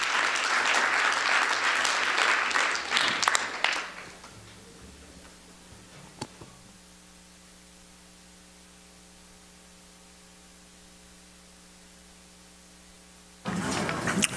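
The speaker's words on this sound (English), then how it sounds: "let's have a nice round of applause for Paul Flannery" A seminar audience applauds a speaker with a loud, dense burst of clapping for about four seconds, then fades into a low electrical hum with faint ticks before a short return of clapping at the very end.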